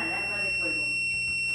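A fire alarm from a Silent Knight SK6820EVS fire panel and voice system, sounding as steady high-pitched alarm tones at close range while someone talks over them.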